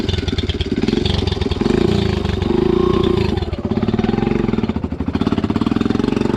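Yamaha FZS V2 motorcycle with a modified setup idles and runs nearby, a steady throbbing engine with slight revving swells over several seconds and no voices.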